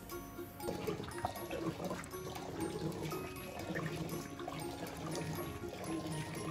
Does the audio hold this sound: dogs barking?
no